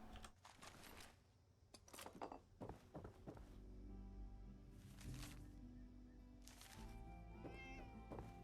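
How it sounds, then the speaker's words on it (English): A cat meows several times in Fallout 76, soft, drawn-out cries rising and falling over a low, steady game ambience, with occasional thunks between them. "I hear you, cat."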